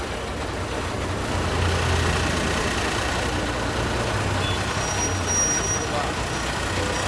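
A TNSTC bus engine drones steadily and loudly in traffic on the Ooty hill road, a continuous low rumble with road noise and no break.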